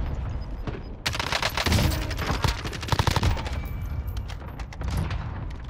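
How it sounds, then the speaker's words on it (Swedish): Rapid machine gun bursts and scattered gunshots in an online multiplayer shooter game, loud and dense with overlapping volleys throughout, no talk. "Vad är det för skott här?"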